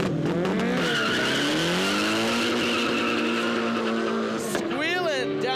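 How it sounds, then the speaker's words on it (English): A Nissan Silvia squeals its tires loudly down a night drag strip, the engine roaring with rising and falling pitch sweeps, then another burst of revving near the end. "Squealing down the track."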